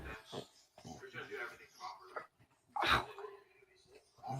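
A pet dog snorts, wheezes and whimpers close by in a home, with a loud burst near the end, mixed in with a person talking over it.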